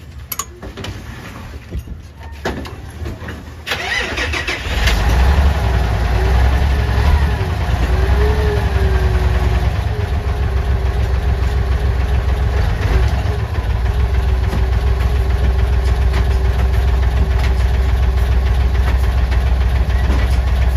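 A vehicle engine with a slipping clutch runs during a clutch lining test, starting with quieter clanks and handling noises, then settling into a loud, steady, close running drone for the rest of the time.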